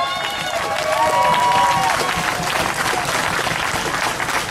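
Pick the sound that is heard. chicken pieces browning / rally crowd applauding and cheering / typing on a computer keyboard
rally crowd applauding and cheering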